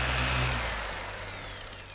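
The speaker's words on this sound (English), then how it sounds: "slow the tool down to speed 2 or 3, and simply drag the brush from in and out as the tool spins" A random orbital polisher spins against a pad conditioning brush being dragged in and out across a microfiber pad at low speed 2 or 3, giving a steady close whirring hum that eases slightly over two seconds, with no talk.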